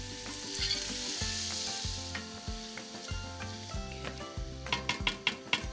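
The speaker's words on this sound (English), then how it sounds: "So I'm just gonna add my onions to my hot oil, and I've finely chopped the onion." Finely chopped onions sizzle loudly in hot oil in a pan, the frying hiss running throughout while a utensil stirs and scrapes, with several sharper clinks near the end.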